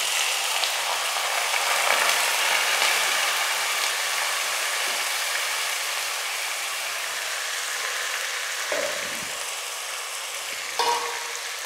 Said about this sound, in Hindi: थोड़ी देर इनको तेल में भुनने दूंगी।